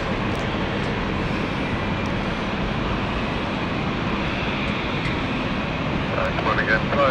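An airplane on final approach at London City airport produces a steady, fairly distant broadband engine roar, with a voice talking faintly over it.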